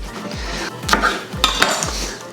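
Square-cut chopped vegetables are tipped into a bowl, giving a few quick clattering knocks and rattles in short bursts.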